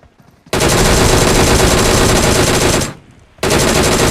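Loud, continuous automatic gunfire in a mobile battle royale game, with two long, dense bursts separated by a short gap, close and dominating, with no speech.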